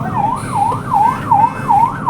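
An ambulance siren wails in a loud, steady up-and-down cycle on a busy highway near an accident scene, heard close over a low rumble of traffic.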